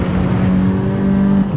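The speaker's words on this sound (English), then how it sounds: "Rev the car out." A Honda car engine with VTEC, driven in a racing video game, revs high and loud with a steady, sustained drone, then drops off near the end as if the throttle is lifted.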